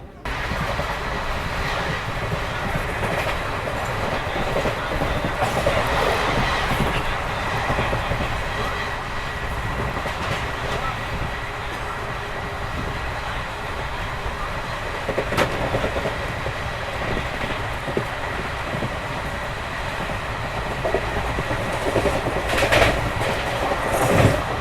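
An ICF-coach sleeper class train on the Varanasi–Ranchi Express runs steadily along the rails, with a continuous close rumble and rhythmic wheel clatter throughout, plus occasional brief squeals.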